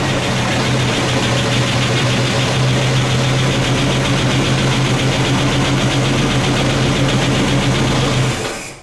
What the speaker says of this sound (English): I'm gonna start it up so you can have a listen to it.